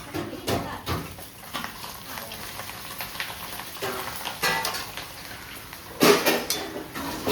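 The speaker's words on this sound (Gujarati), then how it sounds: "તો સરસ મજાના ભૂંગળા તળીએ છીએ હવે" Bhavnagar bhungla fryums deep-frying in oil, a soft continuous sizzle under clinking utensils and scraping pans, with several sharp metallic knocks, one loud near the end, and faint voices in the background.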